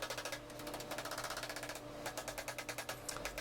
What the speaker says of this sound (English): I'll tap down the metal around it so I can weld and move up and down the areas that need welding.